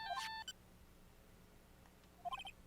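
A phone ringtone plays in Phoenix Wright: Ace Attorney, two short bursts of quick electronic chiming tones separated by nearly two seconds of low hum.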